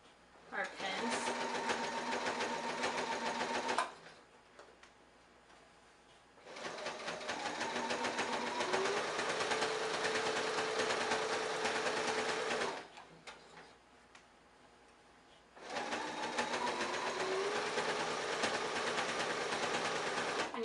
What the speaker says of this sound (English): do a back stitch so that our hem doesn't fall out